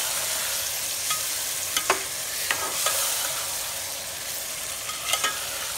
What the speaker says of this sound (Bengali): এখন এই ডালটা দিয়ে আমি কিছুক্ষণ কষাবো।